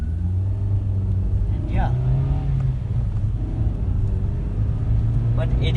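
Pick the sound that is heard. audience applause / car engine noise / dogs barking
car engine noise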